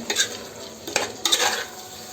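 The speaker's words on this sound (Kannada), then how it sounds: "ಚೆನ್ನಾಗಿ ಕಲಸಿ ಸ್ವಲ್ಪ ಬೇಯಲು ಬಿಡಿ." Tomato masala for veg pulao is stirred in a pan, giving three or four quick, loud, close scraping strokes over a light background sizzle, with no voices.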